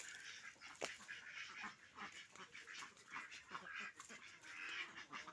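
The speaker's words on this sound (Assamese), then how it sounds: "এই যে হাঁহি দেখিছে, এটা খাকী কেম্বেল হয়।" A flock of Khaki Campbell ducks quacks in a rough, overlapping chorus, close by and fairly faint. Short calls rise and fall unevenly, with a few sharper honks mixed in.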